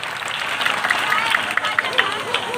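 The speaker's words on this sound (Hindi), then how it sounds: "जोरदार तालियों से उनका स्वागत किया जाए।" Villagers gathered for a Ramlila event clap to welcome a guest, a moderately loud patter of applause with crowd murmur and voices mixed through it.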